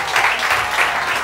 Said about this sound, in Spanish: un fuerte aplauso para Pablo Carbonell.